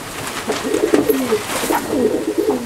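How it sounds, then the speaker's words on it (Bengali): A male pigeon coos repeatedly in a loft, its low, throaty, burbling calls rolling in a steady run, close and loud, with no talking. "এটি নর পায়রা।"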